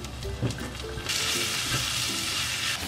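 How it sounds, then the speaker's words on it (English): Loud, steady hiss of bacon frying that swells after a moment and keeps crackling, close up, with faint stirring underneath and no talking. "I'm sure you all know what bacon frying looks like"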